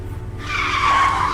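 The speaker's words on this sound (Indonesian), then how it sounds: "Kenapa ngerem mendadak begini?" A bus brakes suddenly, and its tyres let out a loud, rising skid screech lasting about a second over a low engine rumble.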